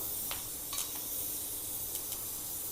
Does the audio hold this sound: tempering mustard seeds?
yes